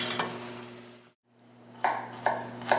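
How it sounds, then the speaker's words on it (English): A kitchen knife chops garlic on a board, first one sharp knock, then three quick, close cuts after a brief pause, over a low steady hum. "I'm just going to chop some garlic"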